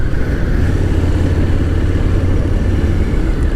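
Harley-Davidson V-Rod motorcycle with its liquid-cooled racing-derived V-twin running smoothly, a steady, loud, close engine drone with constant low rumble and no pauses or talking.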